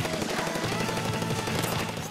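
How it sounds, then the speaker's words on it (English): Rapid gunfire-like shots from a sniper weapon in the online multiplayer shooter Splatoon, loud and continuous, crackling in quick succession over a busy game soundtrack. "Sniper trying to get me."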